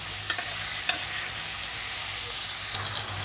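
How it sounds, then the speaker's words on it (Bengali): Onion and potato fry loudly in a pan with a steady, close sizzle, punctuated by occasional scrapes as they are stirred. "পেঁয়াজটা দিয়ে আবারও ভালো করে নেড়ে চেড়ে নেবো, যাতে পেঁয়াজটা একটু ভাজা ভাজা হয়ে যায়।"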